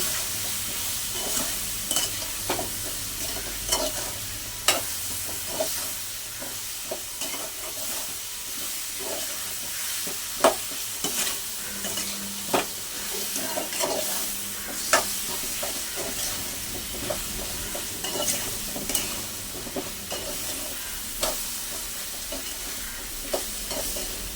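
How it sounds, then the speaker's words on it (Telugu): Brinjal curry sizzles and fries in a pan while a spoon stirs it, scraping and clicking against the metal at irregular moments over a constant hiss, with no voices. "ఇప్పుడు వచ్చేసి మొత్తం మిక్స్ చేసేసుకోవాలి"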